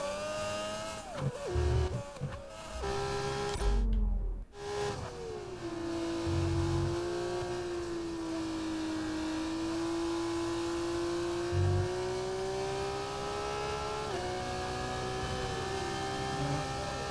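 Formula 1 car engine in the racing video game F1 25, revving and dropping sharply with gear changes and a few low thuds, then settling into a sustained high whine.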